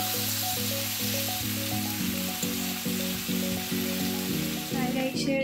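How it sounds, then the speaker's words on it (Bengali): Ingredients for fried rice sizzle steadily and loudly in a pan, a continuous hissing fry with a repeating melodic tone running beneath it. "তার জন্য আমার যেগুলো লাগবে এই জিনিসগুলোকে আগে আমি ভেজে নেব"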